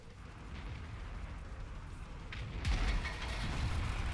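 A heavy tank shell from a Jagdpanzer E100 slams into an FV215b in World of Tanks, landing as a sudden deep boom over a low rumbling battle drone, with the noisy roar lingering to the end.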